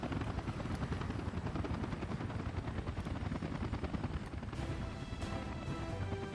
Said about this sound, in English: How far away is that helicopter?